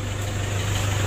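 A Toyota Innova diesel engine idles steadily just after starting, a low, even rumble with a constant hum and no talking, heard close up for about a second.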